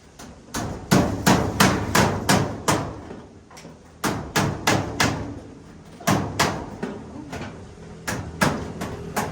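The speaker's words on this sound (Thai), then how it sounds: "ตอกตะปูสูง" Nails are driven high up on an outdoor shop build, with loud, close hammer blows falling in quick bursts of several strikes separated by short pauses.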